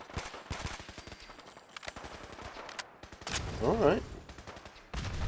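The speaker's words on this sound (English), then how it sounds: "Oh, you're shooting at me, are you?" Enemies fire at the player in the video game Fallout 4 in a modded survival playthrough, giving sharp bursts of gunshots, some rapid and some spaced, with someone briefly speaking.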